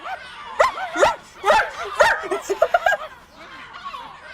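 Dog in the video game Before Your Eyes giving a run of rising yelps and whimpering, howl-like cries, about half a dozen bursts in quick succession, close and fairly loud, fading into a faint whine at the end.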